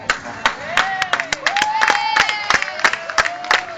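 Audience clapping and cheering for a rider at a horse show in Vilhelmsborg, a steady crowd applause with sharp claps throughout and voices and a whistle-like tone mixed in.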